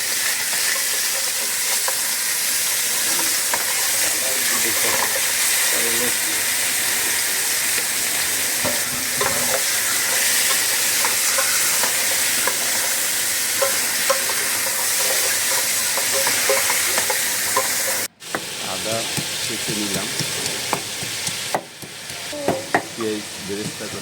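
Chicken pieces frying in ghee for Afghani pulao, a loud, steady sizzle with stirring scrapes throughout, briefly cutting out near the end before resuming.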